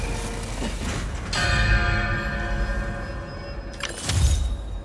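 A bell in a large hangar in the Spider-Man 2 video game rings out twice with a long, shimmering echo and a slow decay, the second strike near the end.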